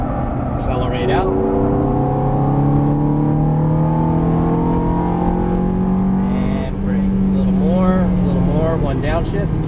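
A Ferrari F430 engine rises steadily in pitch as the car accelerates out of a corner on track, loud and close, with a shift-like dip and a renewed climb near the end.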